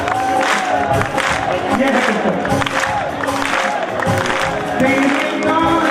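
Audience clapping and cheering at a live bhajan performance, a dense, loud crowd wash running throughout with singing and speech over it.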